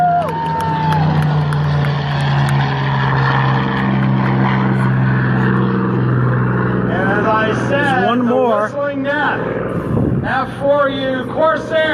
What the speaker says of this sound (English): There it comes. P-51 Mustang.